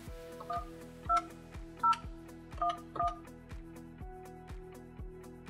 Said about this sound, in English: Now enter the numerical dialable username provided by your admin.